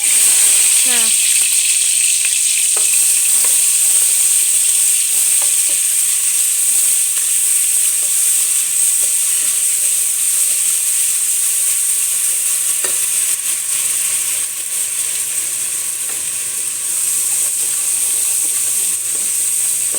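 Whole spices fry in an oily pan for chicken biryani, giving a steady, loud, close sizzle and hiss across the whole clip, with occasional stirring clicks.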